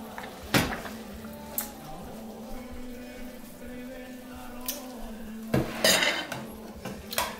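Cabbage stew with pork ribs served from a pot, sharp metal utensil clanks and scrapes against the pot at the start and again near the end, with a quieter stretch of low kitchen noise between.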